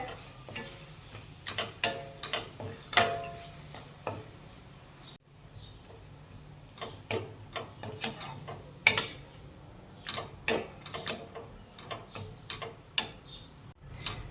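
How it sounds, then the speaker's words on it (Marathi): Ground masala paste stirred and sautéed in oil for katachi aamti, a Maharashtrian dal; a metal spatula clicks and scrapes against the pan in quick, irregular taps over a faint low background, with no talking. "आता हे वाटण छान तेल सुटेपर्यंत परतून घेऊयात"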